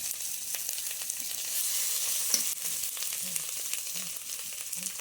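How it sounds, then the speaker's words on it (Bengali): Ginger paste, chopped tomato and green chili frying in a pan for a vegetarian mung dal, with a steady sizzle and occasional soft scrapes of stirring, and no talking. "হাফ চামচ আদা বাটা টমেটো কুচি কাঁচা লঙ্কা কুচি দিয়ে নেড়ে নিলাম"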